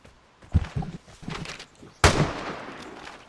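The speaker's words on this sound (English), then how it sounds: "I just got shot at." Gunfire in a first-person shooter game, a couple of sharp cracks, the last one loud and close, with muffled game noise around them.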